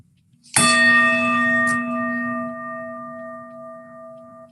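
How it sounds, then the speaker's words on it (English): A single bell is struck once at a Rotary Club meeting, ringing out bright and clear with a long shimmering decay; a faint second tap follows shortly after. "this is actually you ringing the bell"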